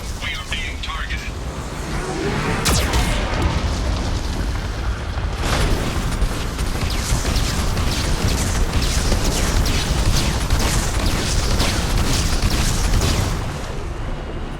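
Explosions from a Geth cannon attack in the video game Mass Effect 2: loud booming blasts and cracks roll through a dense, continuous battle roar, with sharp hits among them and speech over it.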